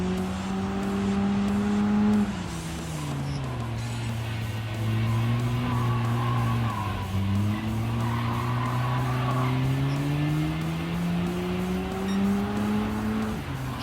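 Race car engines roar in the Gran Turismo 7 racing game, a steady loud drone rising and falling in pitch through gear changes as cars speed around the track, with brief tyre squeal.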